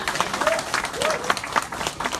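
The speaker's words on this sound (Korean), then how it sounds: "박수 부탁드립니다." Applause at a press conference where a mayor announces a presidential run, a moderate room of clapping in uneven bursts with voices faintly mixed in.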